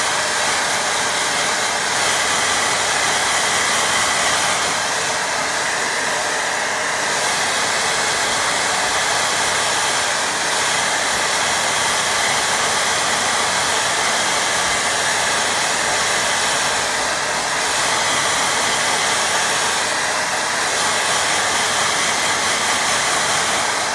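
A hair dryer blows steadily for the whole stretch, drying a watercolour painting with a loud, continuous airy roar and no breaks. No one talks over it.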